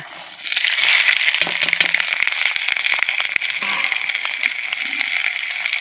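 Mustard and fenugreek seeds crackle and pop in a hot pan while a mango pickle is being prepared outdoors, a dense, continuous sizzle with scattered sharp pops from start to finish.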